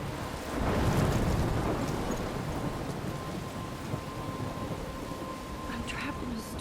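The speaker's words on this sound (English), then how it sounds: "I'm trapped in a storm?" A thunderstorm in the video game Life is Strange: a deep thunder rumble swells early, then steady heavy rain and wind hiss on, with faint patters and drops throughout.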